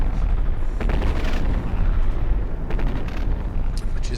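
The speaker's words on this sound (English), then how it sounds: "The organ still seems to be firing at the rear here" Battleship organ guns, a multi-barrel secondary battery, fire in a naval video game with dense booming blasts, sustained and loud, rolling in bursts with no pauses throughout.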